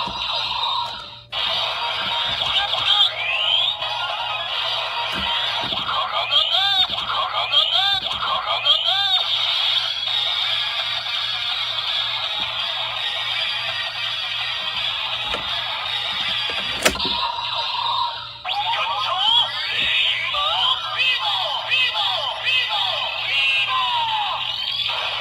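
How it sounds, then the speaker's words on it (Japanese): DX Chemy Nijigon transformation toy playing its electronic sound effects and recorded voice lines, a loud, busy stream of bright tones and chanting vocals that pauses briefly twice before starting again. "本来の動作は虹ゴンの頭を一度押す必要があるんですが、まあやらなくとも音声は流れます"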